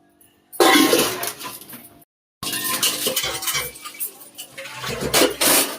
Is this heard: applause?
no